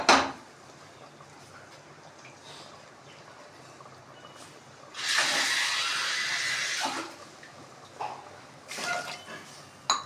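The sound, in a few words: water being poured into a cooking pot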